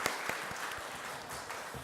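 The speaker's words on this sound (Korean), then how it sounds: "우리 찬양팀 성가대 우리 함께 박수 하나님께 함께 올려드리겠습니다" A church congregation at a Sunday morning service gives a short round of applause for the praise team and choir. Scattered claps from many hands pop out at an uneven rhythm, soft and somewhat distant in a reverberant hall.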